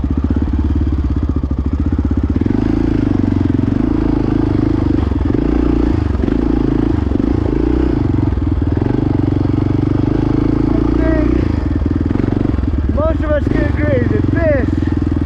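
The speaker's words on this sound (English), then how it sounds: "Now is when this turns into an actual dual sport motorcycle." A dual sport motorcycle rides along a road, its engine droning loud and steady up close with clattering and scraping over the surface, and a voice talks over it near the end.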